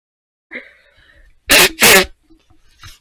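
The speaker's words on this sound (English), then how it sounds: "Also, yes, I'll be blowing my nose" A person blows their nose in two loud, forceful bursts, close up, with faint sniffs and breaths before and after.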